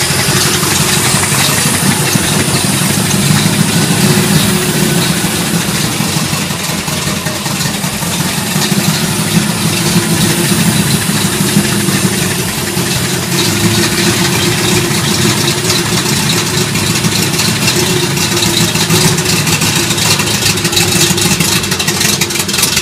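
A car engine idles steadily with its exhaust rumbling, a loud, continuous low drone with slight texture that holds unchanged throughout, no speech.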